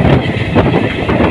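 The Haldia Fast (38053) runs through Deulti station at speed without stopping: a loud, continuous rail rumble with wheel clatter and wind rush, heard close from on board.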